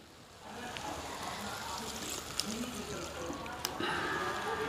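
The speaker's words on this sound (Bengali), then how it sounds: "এবার আমি জল দিয়ে দেব।" Water poured into a pan of frying potato and eggplant curry, a steady crackling, rain-like sizzle that swells slightly partway through, with someone speaking over it.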